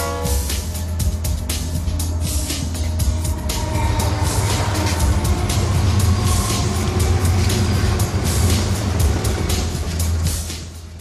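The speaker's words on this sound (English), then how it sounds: "Kids, look there. It is a train." A train passing in an animated children's learning cartoon, a continuous loud rumble with rhythmic clacking of wheels over rail joints, steady throughout before easing off at the end, with no talk.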